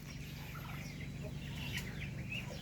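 Hens cluck softly and intermittently at feeding time amid a low, steady background hum, fairly faint and somewhat distant.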